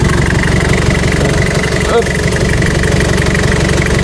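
Toyota Sport Rider pickup engine idling, a loud steady low rumble with a rhythmic throb, close up, with someone talking over it.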